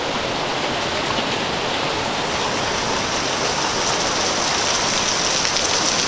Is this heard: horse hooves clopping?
no